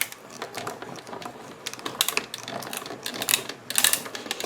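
A hand-cranked die-cutting machine presses paper through a Stampin' Up! dots and spots die, giving close, uneven clicking and ratcheting crunches with no talking.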